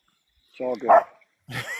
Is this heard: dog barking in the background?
yes